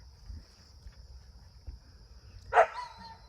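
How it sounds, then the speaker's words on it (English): A single sharp dog bark rings out near the end, after quiet moments with a faint steady hum and low rumble. "Oh, you know why he's barking?"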